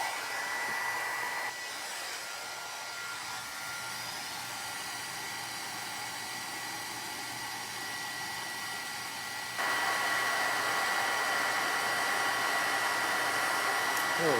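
A heat tool blows with a steady, loud rushing hiss that keeps running without a break, melting embossing powder on a slimline sunflower card and growing slightly louder near the end.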